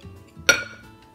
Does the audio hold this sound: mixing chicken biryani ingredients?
yes